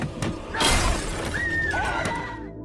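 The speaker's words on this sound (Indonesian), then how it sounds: "orang yang memecahkan kaca mobil" Car window glass shatters in a sharp crash with scattered tinkling fragments, followed by a dense, busy mix of noise and a rising tonal sound, loud and close.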